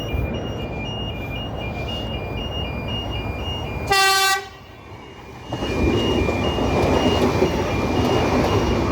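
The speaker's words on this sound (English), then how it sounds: "Got a D-set passing platform number 1." A D-set passenger train passes a station platform at Cowan, its loud steady rolling roar filling the scene, broken midway by a sharp horn toot and a brief dip before the rumble swells back, with no voices.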